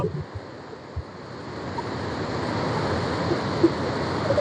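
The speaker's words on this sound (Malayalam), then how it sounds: "കണ്ടോ വെള്ളം സ്പ്രേ ചെയ്ത് പോകുന്ന കണ്ടോ?" Water sprays and rushes at Neyyar Dam in Kerala, a loud, continuous roar close to the microphone with gusty wind buffeting, building slightly toward the end.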